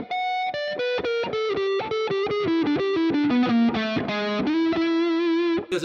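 A distorted electric guitar plays a fast arpeggio lick with a half-step slide, bright picked notes ringing one after another through effects, loud and alone.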